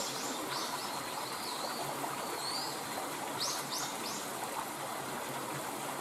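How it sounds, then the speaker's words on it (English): A steady stream rushes and trickles beside a coastal walking path on the Miura Peninsula, while small birds add several brief, high chirps and calls over the constant water noise. "Shut my mouth and just let the water flow and the birds sing"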